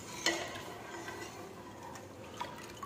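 A spoon stirs a stock pot on the stove, giving faint, close scraping and light clinks against the metal, with a few sharper knocks over a quiet, steady background.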